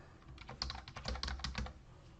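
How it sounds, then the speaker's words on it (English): Rapid keystrokes on a computer keyboard during a software webinar, a quick irregular burst of close, crisp clicks lasting about two seconds with no talking. "Terrible typing."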